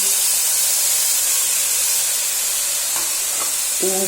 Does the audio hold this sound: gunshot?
no